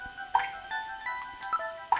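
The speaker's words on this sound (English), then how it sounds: "I can hear water" Sparse, echoing water drips in a sewer from the game Snatcher, a handful of clear plinks at uneven intervals over a quiet, faintly ringing background.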